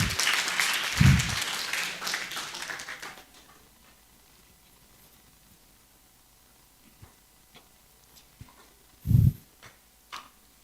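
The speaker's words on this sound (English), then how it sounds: "please give applause to Burati" An audience applauds for a keynote speaker at the ICTS 2023 conference: dense clapping for about three seconds that quickly dies away, leaving a quiet room with a few soft, scattered thumps.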